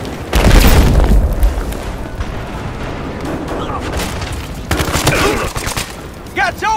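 Battlefield Hardline gunfire from an AKM rifle with heavy explosions, loud booming blasts and rapid fusillades filling the whole stretch, with a player's shouting mixed in.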